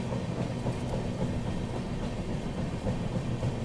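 Gomti Express, a Lucknow-to-Delhi passenger train, rolls slowly past under caution, a steady low rumble of wheels and wagons with soft rhythmic clatter held at an even, fairly close level throughout.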